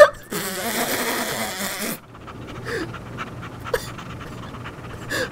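A dog pants in quick, breathy bursts, strongest early and then fainter, with a soft catch or two later on and no speech.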